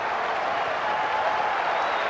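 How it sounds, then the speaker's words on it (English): A cricket crowd at the 1988 Sheffield Shield Grand Final applauds a batsman taking two runs, with steady, even clapping from a large stadium audience lasting throughout. "he'll get the 2 runs, so he acknowledges the plaudits of the crowd"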